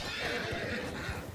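Horses whinny and neigh loudly over rapid clip-clopping hooves in a Mount & Blade cavalry battle, a short, dense burst with no pause.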